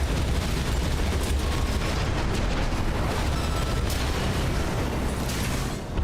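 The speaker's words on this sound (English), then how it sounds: "Who's doing the shooting? Is that a giant laser cannon right there?" Giant laser cannon fire in the mech combat game Armored Core VI, a loud, sustained roaring blast with rumbling booms and bursts filling the whole stretch.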